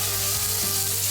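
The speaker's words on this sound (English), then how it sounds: "See? Listen to that sizzle." Beef fillet steaks sizzle in a hot pan, a loud, steady, dense hiss of frying fat that fills the whole moment without a break and with no talk over it.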